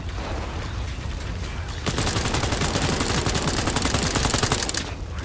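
Rapid, loud bursts of shotgun fire in Cyberpunk 2077 come in dense, continuous volleys. The firing grows heavier after the first two seconds and there is no talk.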